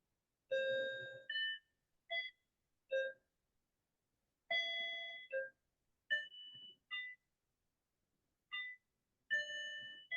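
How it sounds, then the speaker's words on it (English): A clock plays a chiming electronic melody, bright tones in short irregular phrases separated by silence, fairly quiet and clean. "Someone's alarm's going, or doorbell."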